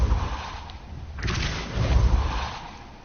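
A Repulsor spell in Hogwarts Legacy lands as a single heavy whooshing thump with a brief swell, followed by a rumbling burst, fairly loud and alone.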